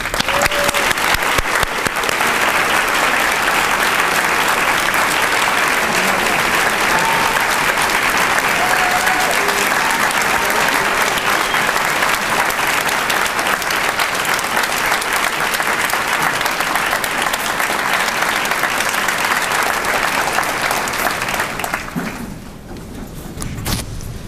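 A lecture audience applauds warmly for Dr. T. Colin Campbell, a dense, sustained roar of clapping that holds steady for over twenty seconds before tapering off at the end.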